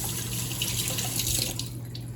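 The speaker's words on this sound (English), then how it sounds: "Now I just need to rinse it and it's ready." Tap water runs steadily over a pickled quail egg being rinsed in a sink, a close, continuous splashing stream throughout.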